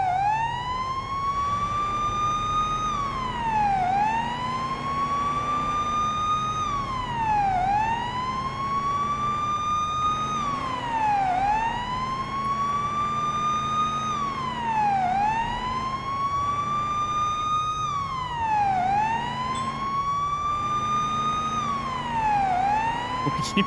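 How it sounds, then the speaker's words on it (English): A police car siren in the video game Police Simulator: Patrol Officers wails loudly and up close, rising and falling in a steady cycle of long sweeps about every four seconds, heard alone without any talking. "the siren's so loud."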